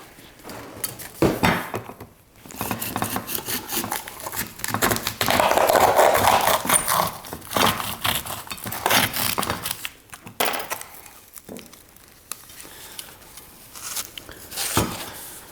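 Cutting open a plastic salt storage container, with a run of close crunching, cracking and clattering plastic sounds and scraping in irregular bursts across the whole stretch.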